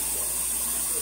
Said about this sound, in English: Go ahead and keep adding that water.